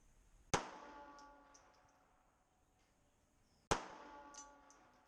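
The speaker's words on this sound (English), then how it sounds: "First shot." Two sharp, loud gunshots from a Glock G28 pistol, spaced about three seconds apart, each a crisp crack followed by a ringing decay and faint echo; no talking.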